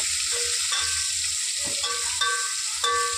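Batter frying in hot oil, batch after batch, giving a steady loud sizzle with occasional light utensil clinks and no speech.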